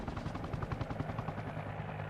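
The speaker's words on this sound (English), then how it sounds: "Oh, there's another helicopter." Helicopter flying in Arma Reforger, a steady rapid rotor chop with a dense mechanical whine, fairly faint and continuous, with no talk over it.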